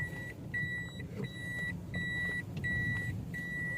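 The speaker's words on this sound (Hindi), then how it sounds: "अब ये देख लें किस तरीके से रिवर्स जाती है गाड़ी" A car reversing, its reversing beeper sounding in a steady series of about six evenly spaced electronic tones over a continuous low engine and road rumble.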